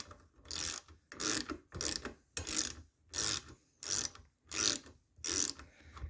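A ratchet tool turns a spark plug rethread insert into a cylinder head, giving eight evenly spaced bursts of close mechanical clicking with short pauses between strokes, loud and alone.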